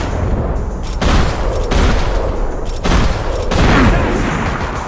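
Heavy gunfire from a sniper fight in the video game Max Payne: loud, booming volleys of shots arrive in several separate bursts, roughly one per second, over a constant roar of action.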